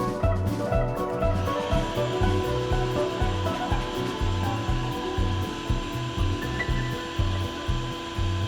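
A power tool grinds and shaves aluminum on a radiator being prepared for a new welded flange, a continuous rough whirring with a pulsing low rhythm, close and loud without any speech.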